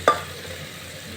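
Soybeans and chopped bottle gourd stir-fried in a pan for a Bhojpuri-style sabzi: a single sharp clatter as they go in, then a soft, steady sizzle underneath.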